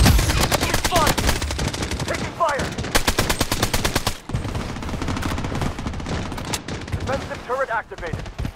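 Rapid gunfire in Blood Strike, loud repeated automatic bursts with brief pauses, then quieter scattered shots, while a voice speaks intermittently over the shooting.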